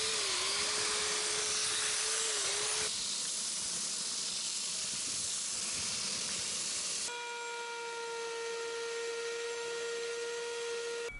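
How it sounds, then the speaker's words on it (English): A power grinder cuts through cured resin and foam on a guitar body built from colored pencils, a steady loud hiss and whine that shifts pitch partway through and then settles into a sustained tonal drone. "I'm just going to go ahead and do it the less gentle way and grind through it all"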